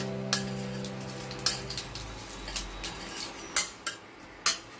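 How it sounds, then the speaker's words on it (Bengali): Panch phoron spices being stirred in a pan while making Indian gooseberry pickle, sharp metallic spoon clicks and scrapes in an uneven rhythm over a faint sizzle, close by. "পাঁচ ফোড়নটা নাড়াচাড়া করে নেব"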